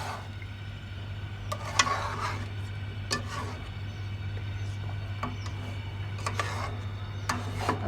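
Yogurt fries in a pot for pulao, a soft sizzle beneath intermittent stirring scrapes and clinks against the metal, moderately quiet with a steady low hum behind.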